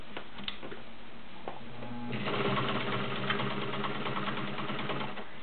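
A Kenmore Model 33 heavy-duty sewing machine stitches through six layers of denim, starting with a few slow, halting stitches before settling into a steady, loud, continuous running hum with rapid rhythmic needle beats.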